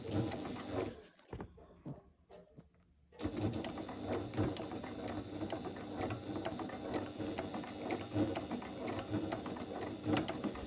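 A sewing machine stitching fabric near 4 mm from the edge, running in a loud steady rhythmic whir for most of the stretch, with a brief pause early on before the stitching resumes continuously.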